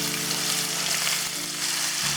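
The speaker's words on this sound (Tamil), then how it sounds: "இப்போ வந்து இந்த வெங்காய பேஸ்ட் வந்து நல்லா ஃப்ரை ஆகட்டும்" Onion paste fries in hot oil with a loud, continuous sizzle and crackle, close up and with no voices.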